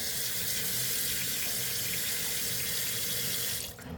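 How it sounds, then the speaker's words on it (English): Hot water gushes steadily from a tap into a sink, a constant close hiss and splash that cuts off abruptly near the end. "So now I'm going to put hot water."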